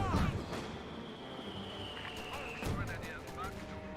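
Rapid bursts of gunfire and distant explosions in the World War II strategy game Company of Heroes 2, a dense crackling battle din with someone talking over it.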